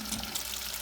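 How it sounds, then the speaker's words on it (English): Water from a tap runs steadily over a tumble dryer's condenser unit in a sink, a brief, faint, even rush of splashing flow. "So the pressure of the water will clean that out for us."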